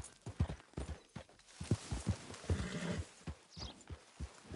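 Close hoofbeats of a video game horse clop in an irregular rhythm, joined by a high, wavering whinny near the end, with no talking.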